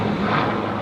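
An airplane passes overhead outdoors, a steady, fairly loud broadband roar that fills the whole moment without any voices.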